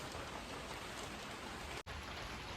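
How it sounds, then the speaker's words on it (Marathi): Heavy rain pouring down in a Konkan village, a dense, steady hiss of drops on surfaces throughout, with a brief dropout near the end; no voices. "बघूया पावसाला जोरात सुरुवात होते"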